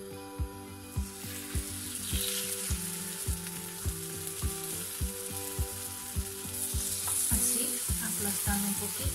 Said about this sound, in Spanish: Cuando ya sentimos que está caliente, colocamos las tortitas.